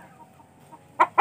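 A small Shanu White rooster gives two sharp clucks in quick succession, close and fairly loud, after a stretch of quiet yard background.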